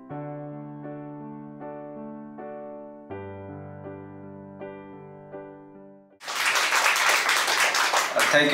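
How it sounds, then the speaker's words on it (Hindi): An audience bursts into loud, dense clapping after a few seconds of sustained keyboard-like tones, the applause continuing strongly to the end with no talk. "प्लीज एक बार जोर लगा तालियां हो जाए"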